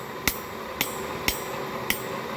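Four sharp metallic hammer blows ring out on a chisel held against steel, evenly spaced about half a second apart against a faint hiss, while a firesteel is hand forged.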